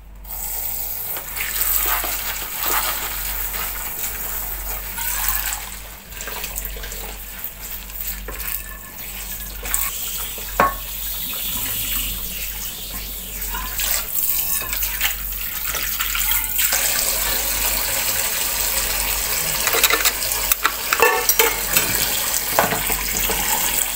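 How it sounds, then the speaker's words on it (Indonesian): Dishes being washed under a running tap in a flood-hit home in Bekasi, Indonesia, with steady water flow and occasional clinks of crockery throughout, no talking. "nyuci piring"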